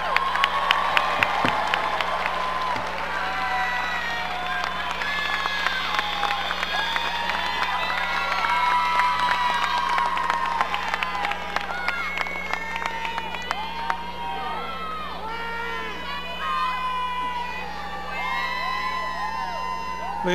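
Graduation commencement crowd cheering and applauding, with whoops and shouts carrying over steady clapping throughout; a busy, reverberant hall-like roar with voices mixed in.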